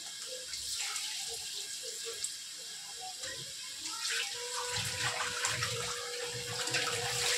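Tap water running steadily over boiled chow mein noodles in a basket strainer to cool them, a continuous close splashing wash with shifting spatter, no voices.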